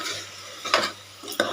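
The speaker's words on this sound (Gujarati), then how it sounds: "એને સરસ હલાવી દઈશું।" A spoon stirs soaked dal and rice for Swaminarayan temple-style prasad khichdi in a pot, giving two distinct scraping strokes over a faint steady background, close by with no talking.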